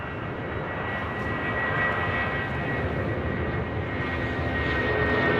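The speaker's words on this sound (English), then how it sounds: "we've got a United 757 now rolling down 25 right" A United Boeing 757 jet rolls down runway 25 right at LAX on its takeoff run, a steady, loud broadband engine roar that holds level and close throughout, with no voices.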